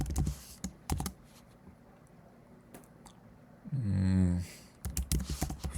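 Someone types Python code on a computer keyboard. Bursts of close, crisp key clicks come in irregular groups, with a short louder noise partway through and quiet stretches between the bursts.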